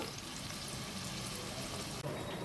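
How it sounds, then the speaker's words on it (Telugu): Chopped onions fry in a pan for a fish stew, a steady, close, uniform hiss running unbroken for a couple of seconds with no talking. "ఉల్లిపాయ ముక్కలు వేగాయండి."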